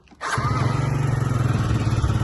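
A Yamaha Jog SA39 fuel-injected scooter engine fires up after a brief starter whir and settles into a steady, close, loud two-stroke-style idle with a fast pulsing beat.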